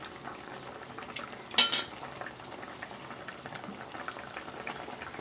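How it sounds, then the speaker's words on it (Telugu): Fish pieces simmer in a tamarind stew, a faint continuous bubbling and sizzle with one brief louder clatter partway through. "ఈ పులుసులో చేప ముక్కల్ని ఉడకనిద్దాం"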